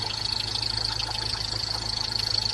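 A 2011 5.0L supercharged V8 idles steadily at close range with a constant engine drone and a high accessory whine, freshly fitted with new intake gaskets and a rebuilt supercharger gearbox, with no voices.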